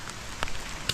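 Soft patter of rain on a rice paddy field, steady and close, with a couple of brighter drips standing out.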